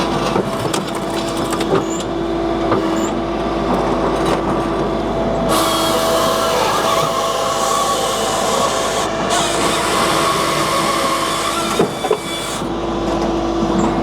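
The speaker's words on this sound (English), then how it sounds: "that runs the splitter and the infeed belt, and when I pull down, that'll run the saw" A Japa 315 firewood processor sawing and splitting a log: continuous hydraulic and engine drone with a rising saw whine midway, clunks and knocks of wood, loud and close, no speech.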